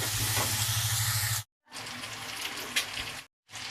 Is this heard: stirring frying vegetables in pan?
yes